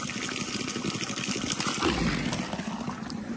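A tired dog named Bos laps water again after exertion, a close, steady wet slurping and trickling running throughout.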